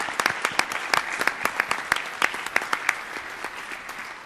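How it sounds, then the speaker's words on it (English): Parents clap for their children at a Crete Monee school district board meeting, a modest scattering of distinct individual claps, fairly close and uneven, rising and thinning across the stretch. "parents, is your chance to applaud your children again tonight"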